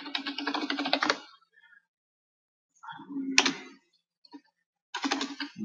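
Computer keyboard typing comes in quick bursts of close, crisp clicks, separated by short pauses. A single brief tap falls between the bursts.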